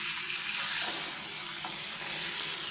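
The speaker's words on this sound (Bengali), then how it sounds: "পটলটা আমার ভালো মতো ভাজা হয়ে গেছে" Pointed gourd (potol) pieces fry in hot oil, giving a bright, continuous hiss and crackle that stays even throughout, with no voices.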